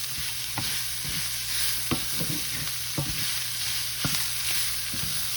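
Garlic sizzles in a hot skillet with ground beef and cabbage, a steady bright frying hiss broken by a few clinks and scrapes of a stirring spoon every second or so, close and continuous with no voices.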